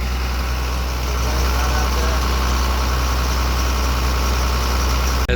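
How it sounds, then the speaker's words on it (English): A mud-caked excavator engine idles at a pond site, a steady loud low rumble that continues unbroken, close by, with no talk over it. "See if I can turn this excavator around and give y'all a little look here."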